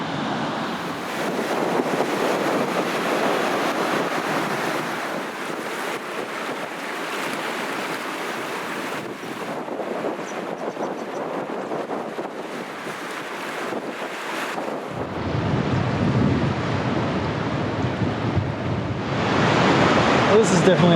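Ocean waves wash onto a beach at Narooma with a constant broadband roar and gusty wind noise on the microphone, swelling louder toward the end.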